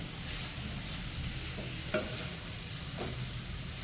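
Moong dal halwa stirred in a hot pan, a steady close scraping and soft sizzle with a couple of brief knocks, no voices.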